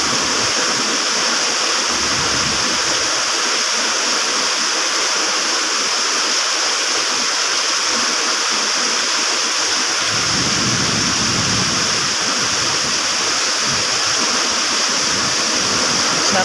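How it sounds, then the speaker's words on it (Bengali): Steady morning rain pours continuously in a dense, loud hiss, likely striking roofs and surfaces with a rushing, stream-like wash and no voices. "আমি ঘুম থেকে উঠেই বৃষ্টির শব্দ শুনলাম এবং ভিডিওটা ধারণ করলাম।"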